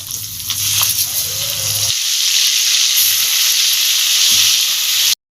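Eggs fry in hot oil for a Bengali egg malai curry, giving a loud, close sizzle and hiss that lasts throughout, with a few soft stirring sounds and an abrupt cut at the end.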